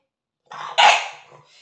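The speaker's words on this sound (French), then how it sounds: "tu aboies pas Prishka comme ça." A dog gives a short, loud bark, a quick yelp followed by a stronger bark, close by in a quiet room.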